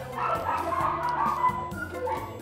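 Large dogs bark at a dog shelter in New York, several short, fairly loud woofs and yips from nearby, overlapping in quick bursts.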